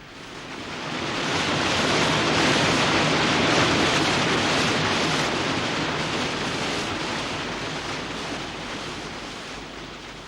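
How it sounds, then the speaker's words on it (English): The Linn of Dee, a fierce waterfall at a beauty spot north of Braemar, gives a loud, steady, broad roar of rushing water that swells and then slowly eases, with no voices over it. "This is the Linn of Dee, a fierce waterfall and a favourite beauty spot"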